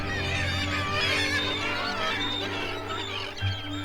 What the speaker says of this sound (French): Au creux des falaises, mouettes, fulmars et guillemots évoluent dans un vacarme assourdissant.